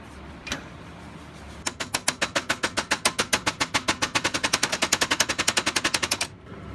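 A power tool drives roll pins out with a modified punch while a Char-Lynn power steering unit is repaired: a single click, then a fast, even burst of loud hammering impacts lasting about four and a half seconds before stopping abruptly.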